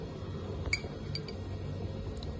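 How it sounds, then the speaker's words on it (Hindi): A spoon adding rose water into a glass bowl gives a couple of faint, light clinks against the glass over a low, steady background hum. "2 चम्मच इसमें आपने गुलाब का अर्क डाल देना है।"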